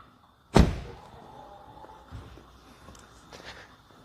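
A BMW X7 fitted with an aftermarket automatic side step gives one loud, close door thunk, followed by a few seconds of faint rustling and quiet.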